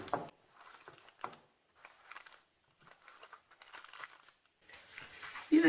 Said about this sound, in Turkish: Hemen üzerine bir tane yufka seriyorum.